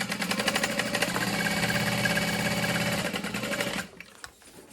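A sewing machine stitches vinyl for an organizer storage bin at a stitch length of about 4, a steady rapid mechanical whir and tapping held close and loud for several seconds, then stopping abruptly into quiet.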